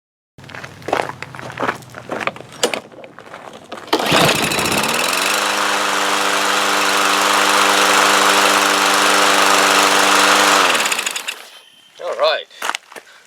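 A Briggs and Stratton small engine with a freshly cleaned plastic carburetor starts after a few pulls and runs loud and steady for several seconds at close range, then cuts off, followed by a few handling clatters.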